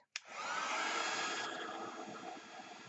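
A heat gun melts mixed gold embossing powder on a stamped sentiment, switching on abruptly into a loud, steady blowing whir that holds for nearly three seconds, with no talking.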